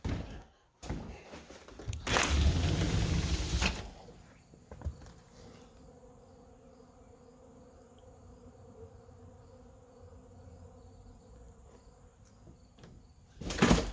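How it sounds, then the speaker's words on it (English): Faint, steady wasp buzzing hums in the background, interrupted early on by a loud rustling burst and a couple of dull knocks. "Pretty sure you can hear wasps."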